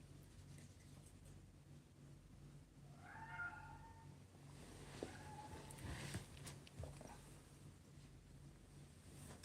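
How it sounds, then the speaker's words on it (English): A pet cat meows faintly in the background indoors, a couple of brief drawn-out calls over low steady room noise and rustling. "can hear my cat doing something in the background"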